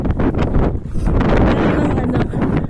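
Strong wind in a snowstorm in Saskatoon, Canada, buffets the microphone in loud, roaring gusts, with muffled voices partly buried beneath it.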